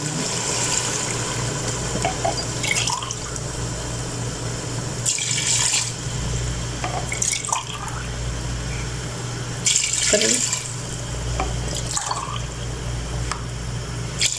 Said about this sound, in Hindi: अब इसी हिसाब से मैं इसमें 6 गिलास डालूँगी पानी